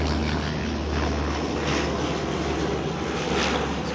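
A Dash 8 turboprop arriving at Auckland Airport in blustery wind makes a continuous loud propeller drone with a low hum and a broad rushing wash, with no voices heard.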